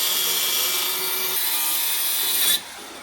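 An angle grinder cuts through a borewell pipe in a village in Jalandhar, a loud, steady, harsh rasping whine that drops off abruptly near the end as the cut finishes.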